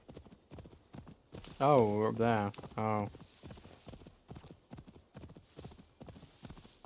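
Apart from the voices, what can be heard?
horse hooves clip-clopping, video game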